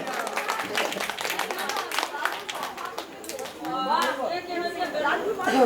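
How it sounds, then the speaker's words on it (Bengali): An audience claps for prize winners at a South Block Bijoya Sammilani gathering, steady crowd applause mixed with loud chatter and voices throughout. "জোরে হাততালি হবে একটা।"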